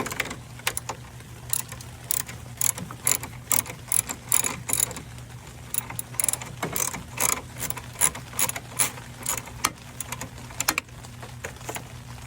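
A ratchet clicks in quick bursts, undoing a 13mm bracket bolt during a BMS intake install on a 2017 BMW 330i with the B48 engine; the rapid pawl ticks come close and clear over a steady low hum, with no talk.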